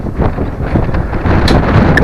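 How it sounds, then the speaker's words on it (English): Strong, gusting wind buffets the microphone outdoors beside a motorized radio tower, a loud continuous rumble that swells and eases throughout. "God, that wind's got up a lot."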